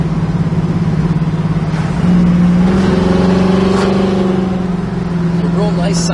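A 1968 Chevrolet Camaro's deep, throaty engine drones while driving and climbs in pitch as it accelerates partway through, steady and fairly loud, with a voice talking over it.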